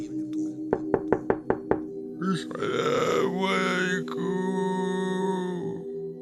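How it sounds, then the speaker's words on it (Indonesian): Five quick, sharp knocks rap on a door in an even rhythm, followed by a low grunt and then a sustained groaning voice layered over steady musical tones. "terdengar suara ketukan pintu."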